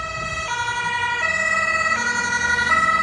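A loud two-tone ambulance siren in New Zealand alternating between high and low pitches in a steady rhythm, close by with faint traffic rumble underneath.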